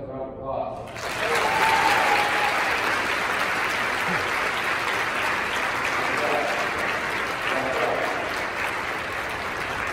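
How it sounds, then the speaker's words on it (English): A crowd bursts into applause after a brief spoken lead-in, then keeps up steady, even clapping through the rest of the stretch. "Now give yourself a round of applause."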